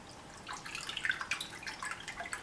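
Liquid pours steadily from a carton into a kitchen container, a soft splashing, trickling stream that starts about half a second in and continues close up at moderate volume with no talking.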